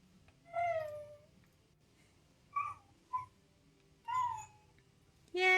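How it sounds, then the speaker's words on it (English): A pet dog whines in a few short, high, tonal bursts separated by pauses, close by and alone in a quiet room, the last cry rising sharply at the end. "anybody else that's going to watch the stream is going to hear the dog too"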